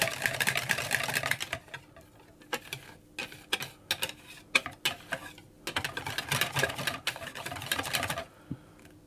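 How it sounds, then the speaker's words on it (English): A whisk beats crêpe batter with milk in a bowl, giving quick rhythmic clicking and tapping against the sides in bursts with short pauses. "I'll whisk it until it's all mixed together"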